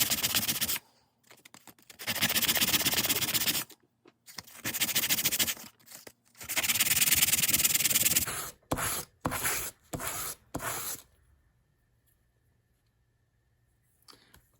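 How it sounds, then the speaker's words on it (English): Sandpaper rubbed over a hand-made wooden swimbait in short rasping bursts separated by pauses, close and fairly loud, with lighter scratches near the end before quiet. "Time to get some sandpaper."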